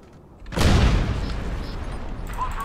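A grenade blast in Crysis multiplayer: a sudden loud boom after a quiet moment, followed by a long rumbling, crackling tail that fades only slightly.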